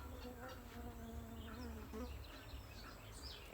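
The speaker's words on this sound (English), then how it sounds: "There could be bees in the ceilings." Bees buzz in a drone with shifting pitch, close and steady over quiet background hum, with no one talking.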